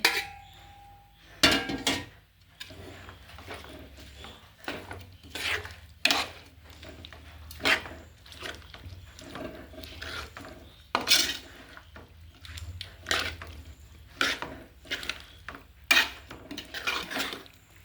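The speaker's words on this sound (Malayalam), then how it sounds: "ഇത് മാങ്ങ മസാലയിൽ നന്നായിട്ട് മിക്സ് ചെയ്തിട്ടുണ്ട്" Mango being mixed into masala in a pan, a long series of irregular metallic spoon scrapes and clinks against the vessel, close and fairly quiet between strokes.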